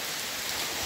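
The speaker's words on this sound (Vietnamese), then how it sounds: "Trời mưa đổ xuống coi cho các bạn xem." Steady rain pours down in a dense, even hiss that fills the whole second, with no voices over it.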